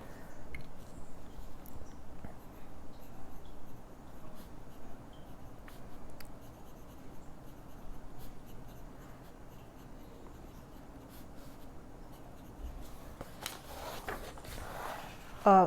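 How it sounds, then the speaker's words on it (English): A broad nib pen scratching across good-quality paper, faint and close, with soft intermittent strokes over a quiet room and a brief louder rustle near the end. "let's try a broad nib, since we have one right here"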